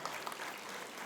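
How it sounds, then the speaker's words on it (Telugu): Gathered attendees at a Mahavatar Babaji birthday celebration event in Vijayawada clap together, a fairly faint, steady wash of applause heard from a distance. "అటువంటి మా మిత్రునికి ఒకసారి గట్టిగా క్లాప్స్ కొడదాం మిత్రులారా"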